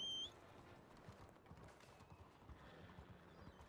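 Horse hooves clip-clop steadily across the ground in a Red Dead roleplay game, a continuous trotting patter growing as the horse approaches, with a brief snort or whinny-like tone near the start.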